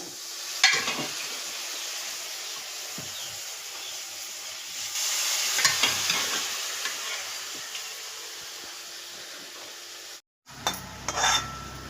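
Chicken pieces for dry sukka chicken, seasoned with homemade black masala, sizzle and hiss in a pan while being stirred, with a scrape of utensils against metal and a short break before the frying resumes.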